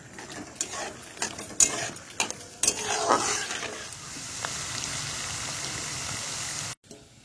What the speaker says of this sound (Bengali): বাদামটা ভেজে নেব।